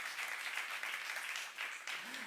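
A Korean church youth congregation applauds in a steady, dense wash of many hands clapping together, loud and continuous throughout.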